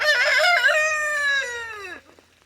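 A backyard rooster crows loudly and close, one long drawn-out call that falls in pitch and trails off, with faint low clucking from hens beneath it.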